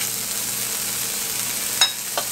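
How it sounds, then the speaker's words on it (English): Bacon frying in a pan gives a steady, close hiss of sizzling fat, with two brief sharper crackles toward the end. "We're going to start off by cooking our bacon, because I want to render some of that fat"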